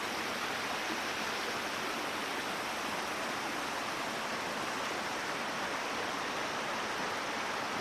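Fallingwater Cascades on the Blue Ridge Parkway, running a little low, makes a constant, dense rush of falling water that stays close and even throughout.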